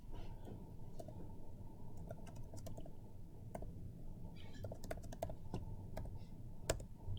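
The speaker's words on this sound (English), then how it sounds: "We would just type in our matrix." A matrix is typed into Octave on a computer keyboard, a sparse, irregular patter of faint key taps over a constant low room hum, with no voices.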